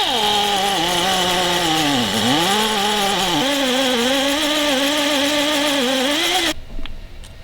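A power drill bores out a broken exhaust manifold bolt on a Lancer Evolution X, a loud close whine that dips in pitch under load and recovers, then cuts off near the end, leaving faint shop noise.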